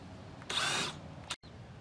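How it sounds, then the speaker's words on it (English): A power tool with a 10mm socket spins bolts out of a plastic cover on an ATV rear cargo box install, a short faint whir lasting under half a second and then a brief second burst. "I am using a 10mm socket to take these bolts out of this plastic cover."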